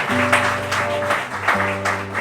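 A church congregation claps together during a worship service, a steady wash of applause running the whole way through over sustained low musical tones.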